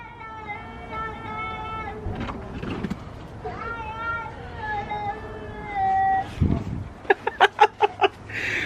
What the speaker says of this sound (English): The cats are fighting.